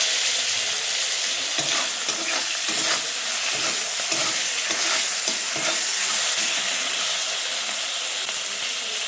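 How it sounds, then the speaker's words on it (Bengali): Onion frying in a pan with salt and tomato added, a steady close sizzle and hiss with repeated stirring scrapes throughout, no voices. "দিয়ে একটু ভালোভাবে হালকা হালকা ভেজে নেব"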